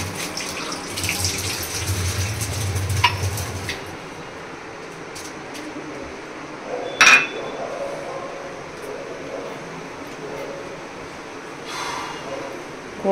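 Water runs from a kitchen tap in a steady hiss for a few seconds, then stops, leaving quiet room tone with a brief clink partway through.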